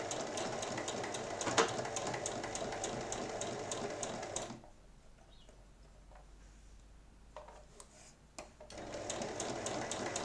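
A sewing machine stitches a lined drawstring bag 1 cm from the edge, a close rapid rattling hum that stops for a few seconds of near quiet with small handling noises, then starts again.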